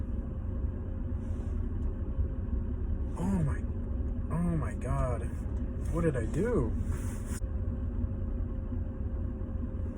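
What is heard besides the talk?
BMW 335i N55 engine idling after race motor mount install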